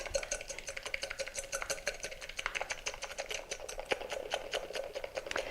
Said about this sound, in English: I'm just going to whisk these until they're thick for 1 to 2 minutes